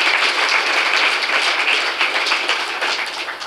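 Audience applause at a Ron Paul talk about his 1988 Libertarian Party presidential run, a dense, steady wash of many clapping hands that holds loud throughout and fades slightly at the end.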